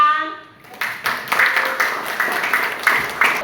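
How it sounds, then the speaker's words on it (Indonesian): A class of students applauding during a role-playing lesson, a brief tone at the start giving way to a scattered, uneven burst of hand clapping that carries on loudly and close with some voices mixed in. "Tepuk tangan."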